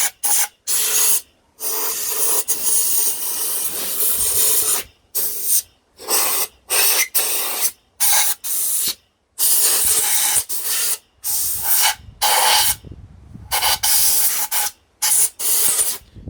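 Compressed air from an air compressor blasting dust out of a Dyson vacuum that pulses with poor suction: repeated loud hissing bursts of varying length separated by short silences, close up, no talking.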